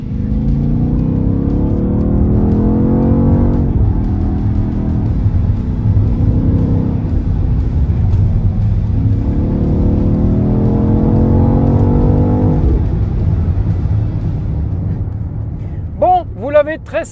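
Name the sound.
BMW XM plug-in hybrid V8 biturbo engine running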